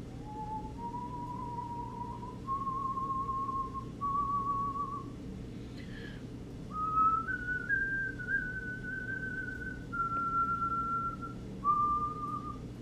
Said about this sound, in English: You can whistle good.